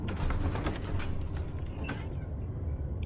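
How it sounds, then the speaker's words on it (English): An old building in Amnesia: The Dark Descent creaks and groans with slow, mechanical wooden strain, a steady close creaking texture running through without a break and no voices. "Place is creaking like a ship."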